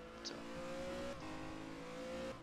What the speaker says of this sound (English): you can listen to the car now and listen how it all goes